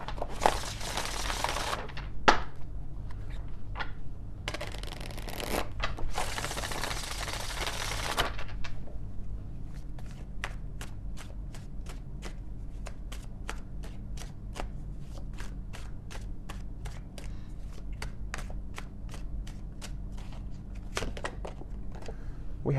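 Oracle cards are shuffled by hand, first in a few dense riffling bursts, then in a long run of quick, even, crisp flicks and slaps, close up and fairly quiet, with no talking.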